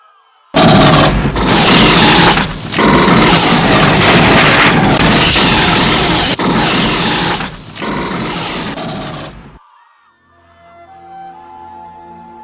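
Loud volleys of rifle fire from troops in a staged Jallianwala Bagh massacre scene, a dense roaring burst lasting several seconds with brief gaps, then cutting off abruptly to quiet.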